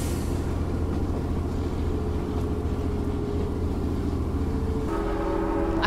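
Train in the video game Choo Choo Charles, a dense continuous low rumble and rolling clatter that holds steady throughout, with a brief higher tonal shift near the end, no talk.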